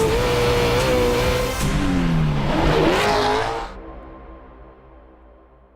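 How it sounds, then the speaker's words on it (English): A Baja 500 off-road race truck engine at qualifying revs loudly and continuously, pitch rising and falling through throttle blips before cutting off and dropping to a quieter idle-like rumble, close and without speech. "Just listen to that motor."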